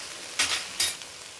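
Okra (ladies finger) sautéing in a pan with turmeric and spices, giving two short bursts of sizzle and stirring over a low, steady background hiss.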